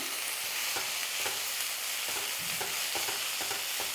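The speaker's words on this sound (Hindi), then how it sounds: "हम तब तक भूनेंगे जब तक कि पालक में से सारा मॉइस्चर ख़त्म ना हो जाए।" Spinach is sautéed in a pan until its moisture cooks off, giving a continuous bright sizzle with regular scraping strokes of stirring, close and steady, with no voices.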